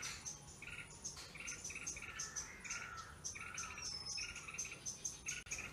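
Small birds near a nest chirp and tweet repeatedly in quick bright bursts, fairly faint and continuous, with a steady insect-like hiss underneath and no voices.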